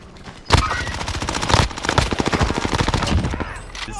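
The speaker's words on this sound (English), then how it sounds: "Shit, under heavy fire here." Sustained rapid MP5 submachine gun fire in Call of Duty, loud and close, a dense automatic rattle running nearly the whole time with a few brief gaps.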